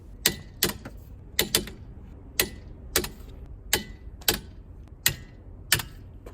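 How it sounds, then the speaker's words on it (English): Sharp, distinct clicks from a torque wrench tightening the wheel lock bolts on a Porsche, about a dozen crisp snaps in an uneven rhythm, close and clear. "tighten every single wheel lock bolt until you hear a click like this."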